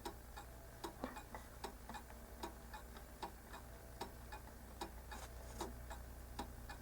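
A Junghans half-hour striking clock ticks with its movement out of beat, a steady stream of faint, close ticks with slightly uneven spacing over a low background hum.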